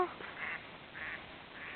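Ducks quack a few times at a distance, with short nasal calls in an uneven rhythm over a quiet outdoor background, faint and without talk.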